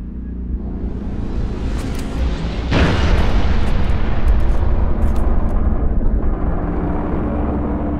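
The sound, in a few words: artillery final protective fire explosions in Halo video game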